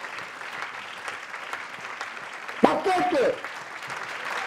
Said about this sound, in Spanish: Un aplauso para nosotras.